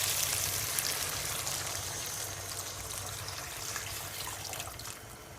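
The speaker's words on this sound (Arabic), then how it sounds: "اضيف المي" Water poured into a cooking pot of dried beans with a meat stock cube, a steady broad rushing splash running continuously and fading slightly toward the end, close, with no talking.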